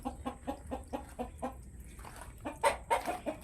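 Backyard chickens cluck in a quick, regular series of short calls that grow louder and more excited toward the end, close by with no talking.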